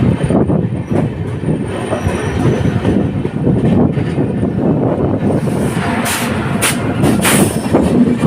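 The Sharsha Humsafar Express runs non-stop through Hajipur Junction with a loud, steady rumble of wheels on rails, repeated metallic squeals and clatter over the points, heard close up and alone.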